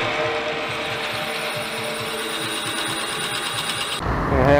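A drill runs steadily while a threaded hole is bored in a car wheel part, a fast buzzing whir with a regular pulsing rhythm, close and fairly loud, before a louder rattling clatter at the end.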